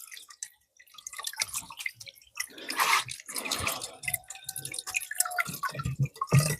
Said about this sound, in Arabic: دابا غنسقيو الماء ان شاء الله